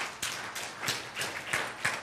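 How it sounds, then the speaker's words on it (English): A church congregation applauding, a handful of distinct claps spaced about a third of a second apart, moderately loud in a hall, with no talking over them. "Let's get a round of applause for them."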